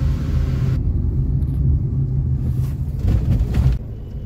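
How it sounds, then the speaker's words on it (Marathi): Inside a new car crawling through heavy Mumbai traffic on a Pune to Mumbai drive, a loud, low engine and road rumble holds steady, then drops away sharply near the end. "खूप ट्राफिक ट्राफिक एरिया आहे मुंबई म्हणजे"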